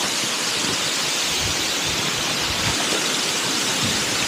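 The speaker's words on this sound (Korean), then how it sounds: "자, 첫 번째 볼골이 경풍 폭포입니다." Gangcheonsan's waterfall roars steadily at close range, a dense, unbroken rush of falling water that fills the whole scene without pause.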